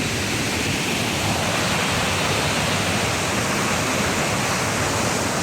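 Giessbach waterfall in the Swiss forest near Interlaken roars with a dense, constant rush of falling water, loud and close, with spray filling the air and no voices.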